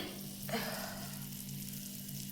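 Dal tadka sizzling as it fries in a pan, a sudden burst of hiss that swells then settles into a steady soft crackle over a constant low hum, with no talking.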